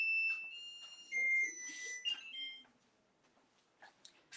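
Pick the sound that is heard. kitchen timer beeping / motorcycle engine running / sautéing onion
kitchen timer beeping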